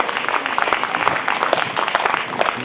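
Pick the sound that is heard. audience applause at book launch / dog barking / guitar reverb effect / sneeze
audience applause at book launch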